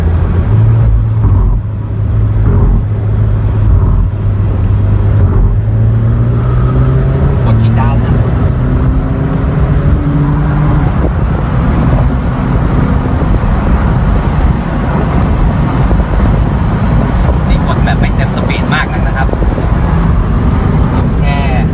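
A McLaren 720S supercar cruises along at about 70 km/h in a relaxed driving mode, its engine drone rising in pitch as it gently accelerates, with road noise throughout and someone talking over it.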